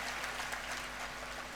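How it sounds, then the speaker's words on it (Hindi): Audience clapping at a devotional religious gathering, a dense continuous patter of many hands at moderate distance over a low steady hum. "एक बार इनके लिए भी जोरदार तालियों के साथ अभिनंदन कीजिए"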